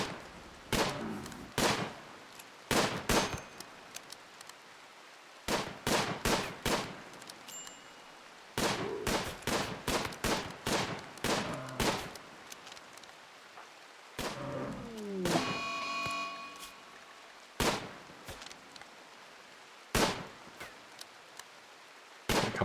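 Gunshots ring out while hunting bison in RimWorld, a string of sharp, loud single cracks spaced in uneven clusters with short quiet gaps between them.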